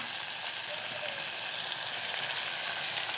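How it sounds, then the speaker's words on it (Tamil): Onions sautéing with ginger garlic paste in hot oil for a channa gravy, a steady, dense sizzle and crackle close up with no voices. "இஞ்சி பூண்டு பேஸ்ட்டு சேர்த்து நல்லா வதக்கி வச்சுக்கலாம்"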